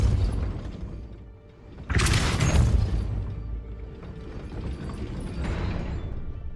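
Depulso spell cast in Hogwarts Legacy, a sudden whooshing blast with a burst of crackling debris and a mechanical rumble, followed by a fainter second surge over steady game ambience.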